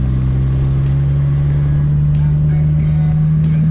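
A supercharged Geo Metro engine pulling through the gears, a loud steady drone with a strong low hum and faint whine, close and continuous with no break.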